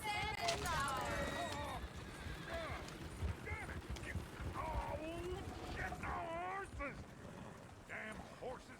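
Horses whinny and squeal repeatedly over a bed of clip-clopping hooves and creaking tack in Red Dead Redemption 2, the neighs rising and falling in several bursts, fairly close and loud.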